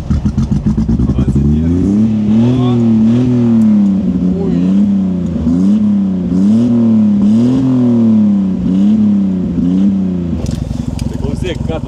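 A Subaru Libero's engine revs hard as it labors along a forest track, rising and falling in repeated surges close by, with people talking over it.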